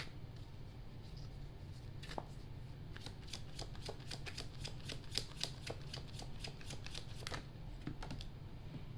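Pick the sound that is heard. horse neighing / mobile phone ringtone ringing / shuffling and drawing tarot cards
shuffling and drawing tarot cards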